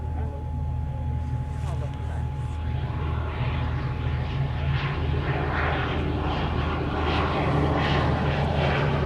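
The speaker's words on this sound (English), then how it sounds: "Now this is a little VIP aeroplane. So it's a TBM 700. It's got one engine." A TBM 700 single-engine turboprop with a Pratt & Whitney PT6A engine drones steadily and loudly nearby, a continuous low engine hum with a faint whine throughout, while someone talks over it.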